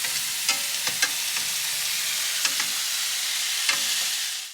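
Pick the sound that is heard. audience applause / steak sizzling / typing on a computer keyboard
steak sizzling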